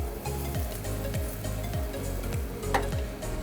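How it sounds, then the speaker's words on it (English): Rice tossed with garlic in a hot pan, a steady bright sizzle with soft rhythmic stirring scrapes about every second, close and continuous with no talk. "I'm just giving my rice a nice toss. Just to coat my rice in this pan real well."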